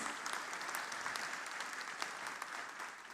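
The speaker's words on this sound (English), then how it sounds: "Let's give another round of applause for our special award winners." Steady applause from an audience at a university graduation ceremony in Sri Lanka, honouring special award winners, a dense crackle of many hands clapping at moderate distance throughout, with no voices.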